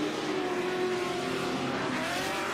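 Race car on a dirt track, an engine roaring steadily at close range with a rising whine as it passes, loud and continuous.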